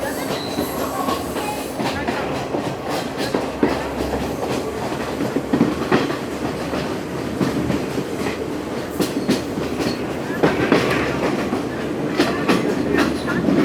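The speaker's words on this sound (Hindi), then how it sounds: "बहुत शार्प टर्न्स हैं जनाब इस रेलवे ट्रैक में, इस रेलवे लाइन पर। जिग जैग हो रही है ट्रेन।" A passenger train, the Ella Odyssey between Ella and Ambewela in Sri Lanka, grinds through sharp zigzag curves, with steady loud rumbling, rhythmic clickety-clack of wheels over rail joints and intermittent high wheel squeal, heard from on board.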